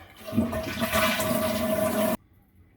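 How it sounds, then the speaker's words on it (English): A toilet flushes with a loud, steady rush of water for about two seconds, then cuts off abruptly into near silence; close and with no talk. "Okay, we will flush."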